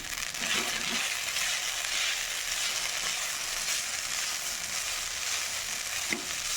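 Rice frying in a pan with coriander leaves and green chilli, a steady, close broadband sizzle that holds evenly throughout with a couple of faint clinks of stirring.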